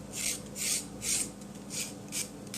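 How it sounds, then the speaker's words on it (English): A knife scrapes the skin off a raw carrot in five or six rhythmic rasping strokes, close and distinct, each a short scratchy burst with brief pauses between, with no talking. "I don't really peel it because I can scrape it. Scrape off all the skin."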